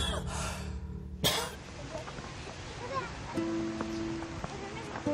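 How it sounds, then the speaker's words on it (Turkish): A person coughs a few times, with a harsh burst near the start, amid background voices and room noise. "Nefes al öksür öksür."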